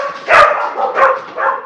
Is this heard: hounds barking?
yes